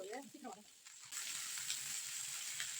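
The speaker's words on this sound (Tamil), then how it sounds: "இப்போ இந்த வெங்காயம் சீக்கிரம் வதங்கிறதுக்கு கொஞ்சமாக நம்ம உப்பு சேர்த்துக்கலாம்." Onions sautéing in a pan with salt added, a steady close sizzle of frying that jumps louder after about a second and holds, with a brief voice at the start.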